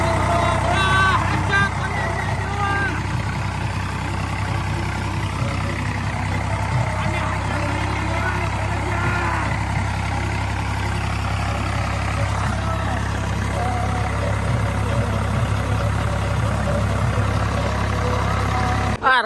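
A farm tractor engine idles steadily nearby, its low continuous rumble holding unchanged throughout, with faint voices in the background.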